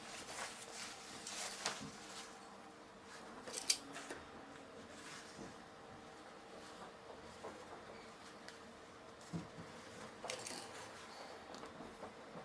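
Scissors notch a fabric corner while a garment is sewn, a few faint, sparse snips and clicks over quiet room noise.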